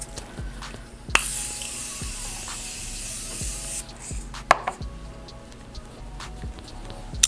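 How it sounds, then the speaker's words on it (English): A Morphe Continuous Setting Mist bottle sprays makeup in a long close, hissing burst of fine mist, with softer ticks and taps around it and no talking. "we're gonna melt it with my Continuous Setting Mist by Morphe"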